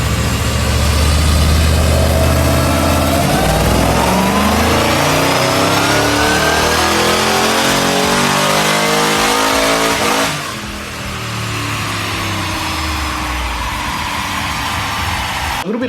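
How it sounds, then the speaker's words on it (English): A 1,000hp VF Commodore race-built car engine revs hard on a dyno, climbing through sustained loud high-rpm pulls, briefly backing off near the end, then pulling again, with no talk. "Check this out on the dyno."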